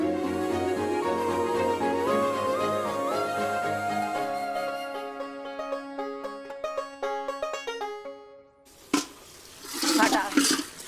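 A water tap gushes at full force in a Hindi TV serial household scene, a loud rushing burst near the end that follows a stretch of background music.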